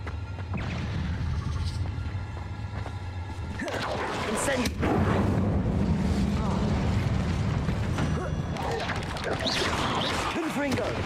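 Confringo blasting spells going off in Hogwarts Legacy, a run of loud bursts and booms over busy game noise. A voice shouts over them.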